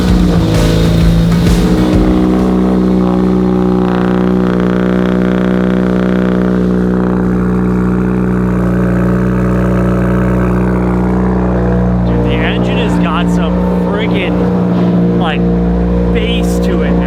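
Fully built Subaru WRX engine with upgraded injectors and high-pressure fuel pump running on a dyno, a loud steady harmonic drone that holds throughout, rising and wavering slightly in the later seconds.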